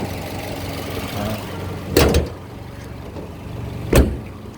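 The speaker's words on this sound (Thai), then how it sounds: "เครื่องเดินเบาไม่มีสะดุดนะครับเดินเรียบ" A Toyota Vios 1.5 E engine idles steadily with a low, even hum, broken by two brief knocks or clunks.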